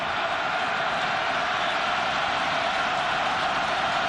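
A football stadium crowd at a college game roars in a dense, continuous wash of noise, loud and sustained, with a commentator's voice faintly under it.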